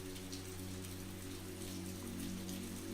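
Steady rain falling in a park, a soft, even patter throughout, with faint sustained music tones underneath and no voices.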